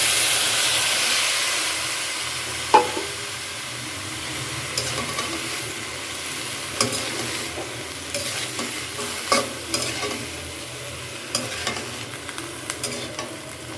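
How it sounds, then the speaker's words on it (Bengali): Steamed vegetables are stir-fried with egg in a pan, a continuous soft sizzle punctuated by sharp utensil scrapes and taps of stirring, close and without speech. "দিয়ে দিলাম ভাপিয়ে রাখা"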